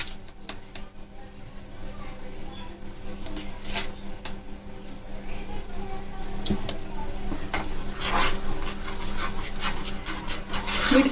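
Salt being stirred into paneer lababdar gravy, a soft scraping and rubbing of a spoon in the pan with a faint sizzle, steady and close, no voices.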